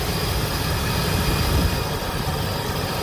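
A 2003 Ford F-350 XL utility bed truck's 5.4-liter Triton engine runs steadily at idle, a loud, even low rumble with a continuous mechanical whir and no talking.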